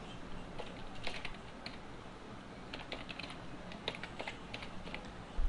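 Quiet, close-up typing on a computer keyboard gives a steady run of light key clicks with small irregular pauses, and a slightly louder keystroke lands at the end.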